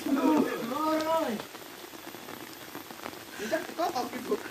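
Rain falls in a continuous soft patter on a surface, while people talk nearby.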